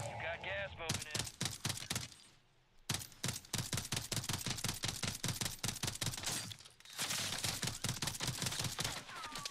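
Sustained automatic gunfire in a solo battle royale match, long rapid strings of sharp cracking shots at moderate distance, interrupted by two short pauses.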